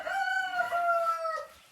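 A rooster crows once, a clear drawn-out call lasting over a second and tailing off, from a mixed-age flock of old laying hens kept with two roosters.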